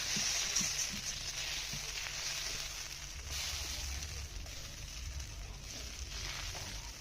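Rice batter shaken by hand into an oiled pan for hatjhara pitha, giving a soft, even sizzle with faint crackles, close but quiet and continuous with no talk.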